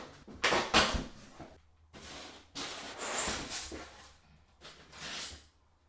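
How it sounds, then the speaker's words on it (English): A parcel holding a juice delivery is opened up close in several short bursts of rustling and tearing, with brief pauses between the handling sounds and no talking. "I need to first and foremost get my parcel open because I have a juice delivery"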